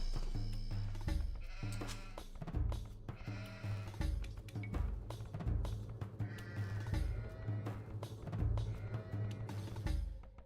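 Sheep in Age of Empires II bleat repeatedly in short, nasal calls over game sounds and clicks, several overlapping bleats scattered through the stretch at close, moderate loudness.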